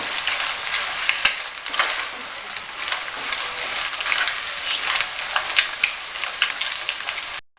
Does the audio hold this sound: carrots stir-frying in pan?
yes